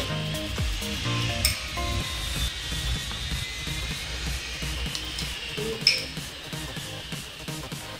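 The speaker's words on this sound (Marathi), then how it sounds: "आपण लाकडी उलथनं घेतलेलं आहे हलवायला" Frying poha chivda is stirred in a pan with a wooden spatula, a continuous close sizzle broken by repeated scraping strokes and a couple of sharp clinks.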